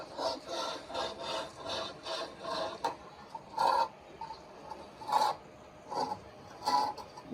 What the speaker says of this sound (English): Scrub like you mean it.